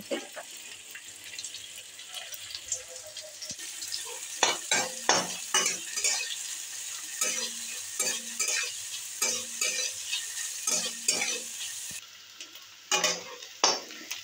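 Chopped onions fry lightly in oil for a raw fish curry, a faint sizzle beneath a run of rhythmic spoon scrapes and taps against the pan that grow busier midway, then stop briefly before a last few strokes.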